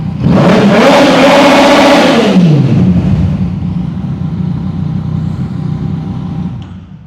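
A 2014 Yamaha FZ-09 motorcycle engine revs hard and loud up close, the pitch climbing and falling before settling back to a steady throbbing idle, no talk.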